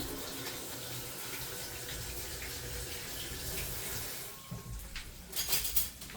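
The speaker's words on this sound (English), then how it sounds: "I gotta wash my hands." Running tap water at a kitchen sink while hands are washed during cooking, a steady close rush of flowing water with some splashing and clatter toward the end.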